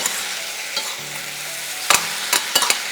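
Vegetables sauté in a hot pan with a steady soft sizzle, broken by a few sharp scraping clacks of a utensil stirring near the end.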